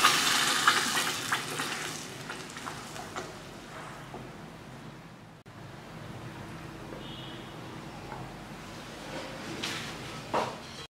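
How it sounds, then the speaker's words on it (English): Moringa and sweet potato mixture poured into a pan of sautéed garlic and pudina, with a close, steady hiss and stirring scrapes and a sharper splash near the start, then quieter simmering to the end. "I have added the moringa sweet potato mixture to the sauteed garlic and pudina"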